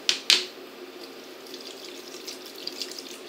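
Water splashing into a stew pot of beef cheek ragout with vegetables, a brief sharp splash at the start followed by a soft, steady trickle and faint drips, close and quiet.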